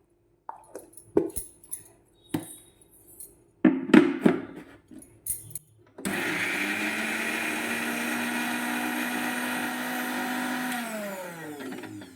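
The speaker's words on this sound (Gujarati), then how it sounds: "હવે આપણે લીલા મરચાં અને લીલું લસણ લીધું હતું તેને પણ આપણે મિક્સરમાં ક્રશ કરી લઈશું" Scattered clinks and thunks of a mixer grinder jar being loaded and closed give way to a loud, steady, continuous whirring as the mixer grinder crushes green chillies and green garlic, winding down slightly at the end.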